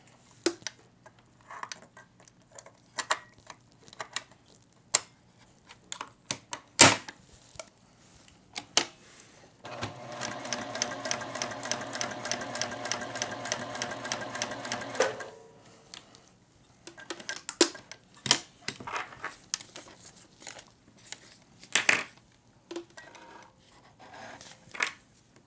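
A Juki TL-2010Q semi-industrial sewing machine runs in one steady, rapid whirring burst of stitching lasting several seconds. Scattered close clicks and taps of handling the machine come before and after the run.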